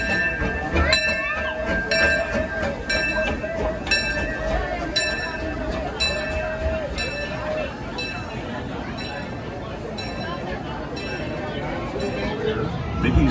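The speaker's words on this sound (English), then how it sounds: "riding in the train that goes around the park. The Disney Railroad" Ride aboard the Disneyland Railroad train circling the park, with steady rolling rumble and rhythmic clicking, tonal bell or whistle notes early on, and voices talking over the ride throughout.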